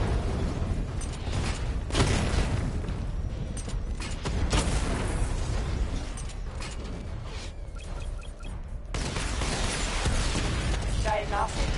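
Batmobile missile barrage in Batman Arkham Knight, a dense run of booming explosions, pops and mechanical clanks, loud and continuous, with speech running over them.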